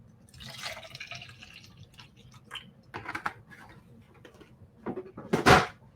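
Water is added for painting, with small drips and a wet, squishy dabbing of liquid, a few soft splashes scattered through a quiet room and one louder wet burst near the end.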